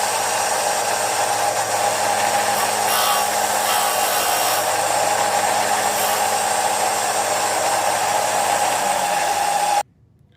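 A bench grinder takes the angle off the tip of a Pilot G2 ink refill, giving a loud, steady high whir that runs unbroken for about ten seconds before cutting off abruptly.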